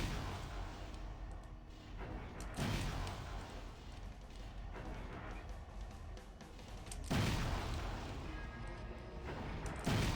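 Explosions in Armored Core 4: heavy, broadband booms at intervals over a constant loud wash of game noise and rumbling, with no voices.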